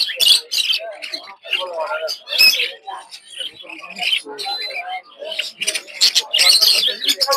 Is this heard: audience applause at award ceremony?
no